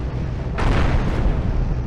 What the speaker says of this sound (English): Ion cannon fires.